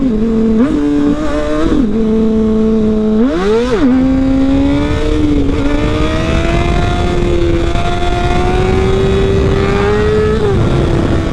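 Motorcycle engine revving hard close up while accelerating to lift a wheelie, with a few quick rev changes and gear shifts early on, then one sustained, rising pull.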